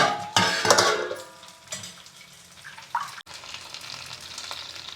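Masala-stuffed brinjals frying in a pan are stirred, giving a steady crackling sizzle with scraping spoon strokes and a few clinks against the metal, loudest at the start and settling to a softer hiss.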